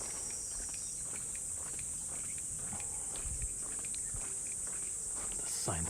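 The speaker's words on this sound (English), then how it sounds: "you will hear cicada" On a summer morning walk in Tokyo, a steady high insect drone from cicadas holds throughout at a moderate level, with footsteps and faint street sounds underneath.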